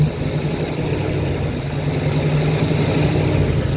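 A 1971 Chevy Camaro engine runs loud and close in a steady, even drone, with a faint tick hidden inside the rumble.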